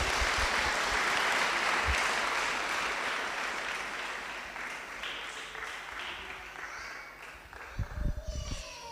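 A church congregation breaks into applause, a dense wash of clapping that fades gradually, followed by a few close thumps and bumps near the end.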